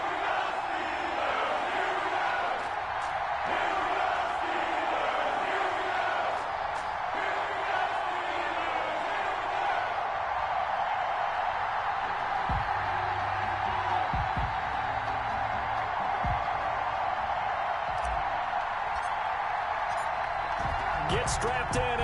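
A crowd at Heinz Field roars continuously as the Pittsburgh Steelers and Cincinnati Bengals get set for an NFL game, with a distant, sustained rumble, sharp thumps and a commentator talking over it.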